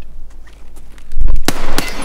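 Gunfire in the video game Escape from Tarkov, two sharp loud shots close together near the end, preceded by fainter distant pops and low rumble.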